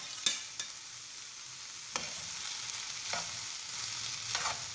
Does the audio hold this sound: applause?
no